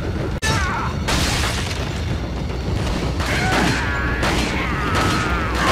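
Sharp shots and booming impacts in the survival horror game Resident Evil 4, a sudden crack near the start followed by several loud blasts amid continuous in-game noise.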